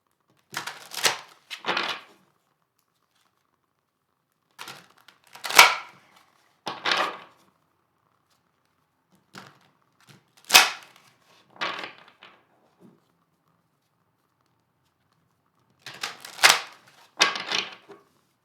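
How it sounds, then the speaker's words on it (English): Several short bursts of cards being shuffled, quick crisp riffles separated by pauses, close up and quiet in between. "Couple more shuffles here."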